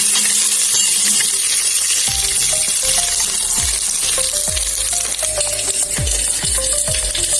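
Dried chilies and curry leaves sizzle steadily in hot oil in a pan for South Indian sambar, with a spoon stirring and scraping through them in repeated short strokes, close and fairly loud throughout.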